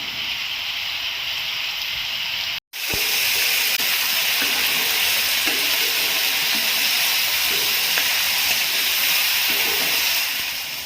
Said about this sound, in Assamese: এতিয়া এনেকৈ অলপ দেৰি ভাজ খাবলৈ দিম মাংসখিনি